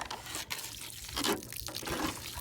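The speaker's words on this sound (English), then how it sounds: "And then I'm just gonna water these in." Water pours onto soil over newly planted iris rhizomes, an irregular splashing and trickling with uneven bursts, close and fairly quiet.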